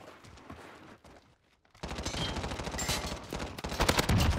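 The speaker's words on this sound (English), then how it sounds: "Oh, bro, I'm shooting." Gunfire in Call of Duty Warzone, quiet scattered shots at first, then after a short lull a dense burst of rapid automatic fire that grows louder.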